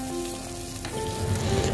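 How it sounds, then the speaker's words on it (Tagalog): Garlic and onion sautéing in a pan for Filipino pochero, a steady close sizzle that swells louder midway as the aromatics hit the hot oil, with faint kitchen hum underneath. "igisa natin ang bawang, sibuyas"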